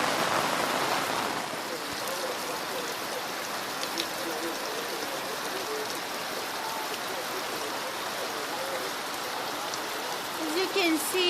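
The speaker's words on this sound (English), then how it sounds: "It's raining rapidly, like you can see." Heavy rain falls steadily in Kenya: a dense, even hiss of water pouring down without letup, close and loud throughout.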